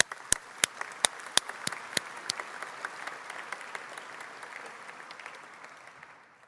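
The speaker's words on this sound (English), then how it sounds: "Let's give a big hands to the awardees for this year" Applause at an ICML conference session for the year's paper awardees, a hall of steady clapping with a few sharp nearby claps standing out, fading gradually toward the end.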